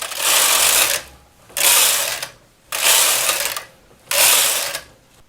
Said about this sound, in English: I'll knit 16 rows on the tighter tension with every third needle out of work.